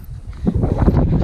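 Wind blows across an exposed ridge in winter in the UK, a close, rumbling gusty roar buffeting the microphone that grows stronger after the first half second.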